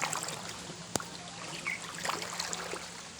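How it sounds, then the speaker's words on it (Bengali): Feet wade through shallow floodwater covering a home courtyard, soft sloshing and trickling water with one sharp splash, fairly faint against steady outdoor background noise. "এই দেখো পা ডুবে যাচ্ছে, কত জল"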